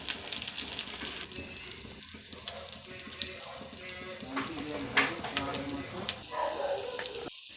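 Egg paddu batter mixed with onion, coriander and green chili sizzles in a paddu pan with a soft, steady hiss and a few light clinks, while a person talks over it.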